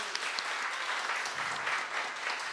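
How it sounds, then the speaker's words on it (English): Crowd applause at a community gathering in St. Pete, Florida, a continuous even patter of many hands clapping, fairly close and sustained throughout, with no speech over it. "So Uhuru, give yourself a round of applause."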